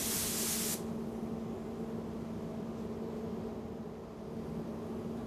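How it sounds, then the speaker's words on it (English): A spray gun applies etch primer to bare metal inside a spray booth, starting with a loud, close hiss that cuts off after under a second, leaving a steady booth fan drone with a low hum underneath. "With localized masking completed in the spray booth, etch primer is applied, protecting the bare metal surfaces from corrosion."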